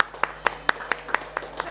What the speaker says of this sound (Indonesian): Berikan tepuk tangan terbaik untuk Tuhan kita